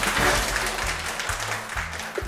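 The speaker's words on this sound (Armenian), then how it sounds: "Բրավո, ծափարում ենք" Brief burst of applause from a studio group, a dense patter of clapping that starts loud and gradually thins out.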